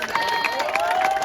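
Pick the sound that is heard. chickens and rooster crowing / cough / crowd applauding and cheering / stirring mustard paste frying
crowd applauding and cheering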